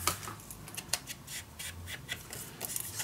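Scissors snipping around a paper tag, a quiet series of short, crisp cuts in an uneven rhythm at close range.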